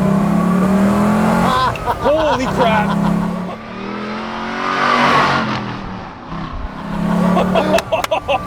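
A 1964 Pontiac GTO muscle car engine revs and accelerates hard, loud and close, with a shift partway through and an excited voice shouting over it.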